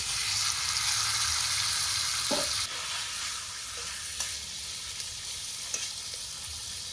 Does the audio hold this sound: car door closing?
no